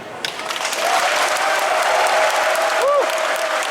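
Large crowd applauding at the opening ceremony of the Manchaary Games, a dense, steady roar of clapping that swells in and holds loud throughout, with faint tonal sounds from the venue underneath.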